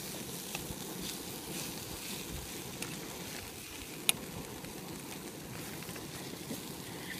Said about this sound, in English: we're actually frying up.